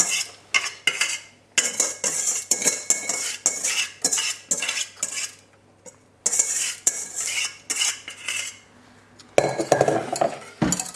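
A utensil repeatedly scraping and clinking against a metal saucepan while choux pastry ingredients are stirred, in quick irregular bursts.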